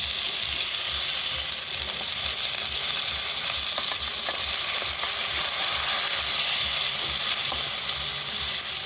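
Chicken leg pieces fry in a pan on a gas stove with a loud, steady hissing sizzle and occasional crackles, heard close up and uninterrupted, with no talking.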